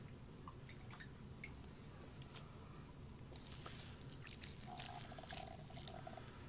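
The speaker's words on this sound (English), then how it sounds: "We're going to add some water in here." Water is poured and sprinkled into a worm bin filled with hemp bedding, giving soft drips and trickles that grow busier and louder in the second half, close by with no talking.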